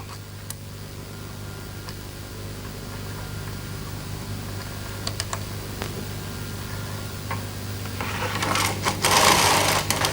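A Bond Incredible Sweater Machine knits intarsia: scattered small ticks and clicks over a low hum, then a louder rattling, clattering pass of the carriage near the end.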